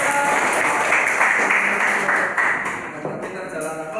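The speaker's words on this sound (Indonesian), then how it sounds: "Tepuk tangan." A classroom of students claps together for a group after the teacher's call, a dense, continuous applause that carries on throughout and tapers slightly toward the end.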